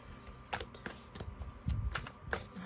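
Soft riffling and flicking of cards being shuffled close by, in several quick bursts with brief pauses between them.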